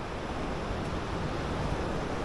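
Broad, steady wash of surf at Pinny Beach with a constant hiss, waves rolling in without distinct breaks, slightly buffeted by wind.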